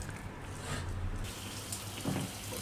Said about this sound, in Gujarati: તો આપણે કઢાઈને ધોઈને લઈ લીધીશ